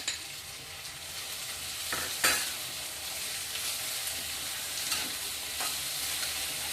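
Chopped capsicum stir-fried in a hot pan for veg hakka noodles, giving a steady close sizzle with a few sharp scraping stirs of the spatula. No talking.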